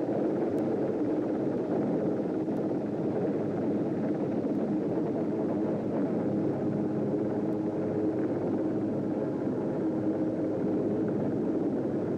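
A helicopter hovers just off the port side of a recovery ship and moves in to land on the deck, a loud, steady rotor and engine roar that fills the scene without pause and with no voices over it.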